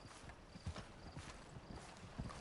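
Horse hooves clip-clop steadily in the western video game Red Dead Redemption 2 Online, a soft repeating rhythm of hoofbeats at moderate distance over constant ambient noise.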